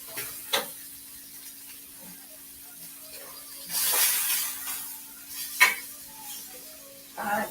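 Meat searing in a hot pan: a soft sizzle under a low steady hum, broken by occasional utensil clinks and scrapes and a few brief louder swells.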